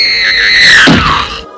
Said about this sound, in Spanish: Un grito la sorprende